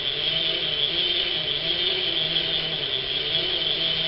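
A hand-cranked Little Vesta vintage sewing machine winds with a steady mechanical whir and faint rhythmic clatter, continuous and close, with no voice over it.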